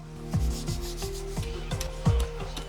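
A saw cuts the head off a whole tuna carcass, making a steady back-and-forth rasping stroke with roughly six or seven rhythmic pulls, close and fairly loud, with a low mechanical hum underneath and no talking.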